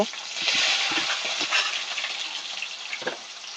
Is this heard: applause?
no